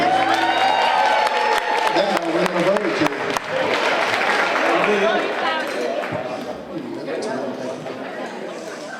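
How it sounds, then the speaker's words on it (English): A crowd applauds and cheers for Lee Overstreet at a charity auction, loud sustained clapping with whoops that tapers off slowly while someone speaks over it. "Give a round of applause for Lee Overstreet."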